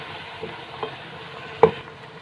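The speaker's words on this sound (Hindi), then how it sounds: "यहाँ पे हम लहसुन अदरक का पेस्ट शामिल कर रहे हैं। अब इसको अच्छी तरीके से भून लें 2-3 मिनट के लिए।" Garlic ginger paste frying in a pan, a quiet steady sizzle with a few light stirring taps and one sharper knock near the end, no talking.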